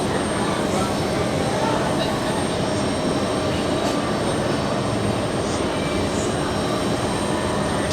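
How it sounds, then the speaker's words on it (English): A Russian Ilyushin IL-96 airliner taxis off the runway after landing, its engines producing a steady, loud broadband roar and rumble that holds constant throughout, with faint higher whines drifting above. "we will stay with the Russian aircraft, now exiting runway 4 left"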